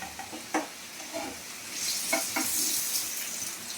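Pointed gourd (potol) slices frying in oil in a pan at home, a steady soft sizzle with a few clinks and scrapes of a spatula turning the pieces, close by with no talk.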